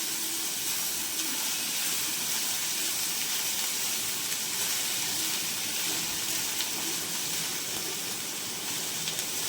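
Okra masala fries in a pan with salt and turmeric, a dense continuous sizzling hiss held at an even, fairly loud level throughout without any talk.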